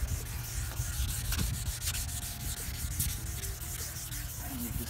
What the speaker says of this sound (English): what we're going to do is wet sand them with 800 grit paper first